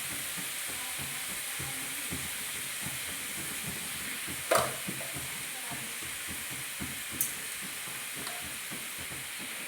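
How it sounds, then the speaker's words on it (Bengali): Cauliflower and spices sizzle steadily in a pan for a vegetarian cauliflower korma, a close continuous frying hiss with a brief stirring clink partway through. "এরপর ভালো করে মশলার সাথে এগুলো আমি ভেজে নেবো একটু"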